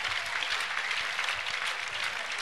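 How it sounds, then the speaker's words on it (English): Church congregation clapping in praise at a workers and leaders day service, a dense, steady wash of many hands held at constant loudness throughout, with no speech above it. "A big clap offering to Jesus."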